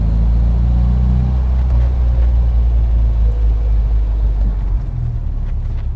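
MGB Roadster engine holding around 3,000 RPM on a summer road drive, a steady low throaty drone that stays loud and even, easing slightly near the end.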